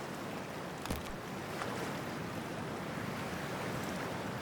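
Cold water and waves wash around the player ahead of a dive in the game Cyberpunk 2077, a steady surf-like rush with a brief splash near the start and no talking.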